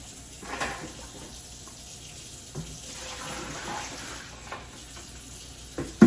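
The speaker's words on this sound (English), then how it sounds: "I'm going to let out these buckets of water" Buckets of water are poured out into a kitchen sink, a soft, steady splashing trickle with a few louder gushes and clunks, close by and without talking.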